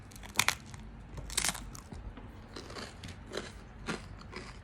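Close, crisp crunching bites into a crunchy bread crust from a Wildgrain box, two sharp loud bites followed by quieter crackling chews in a quiet room.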